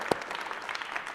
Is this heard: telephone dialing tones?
no